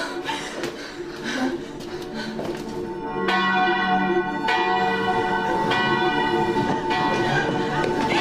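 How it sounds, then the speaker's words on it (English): A bell ringing loudly and repeatedly, ringing tones overlapping and sustaining, with faint voices and a chuckle beneath. "She won't stop ringing the bell."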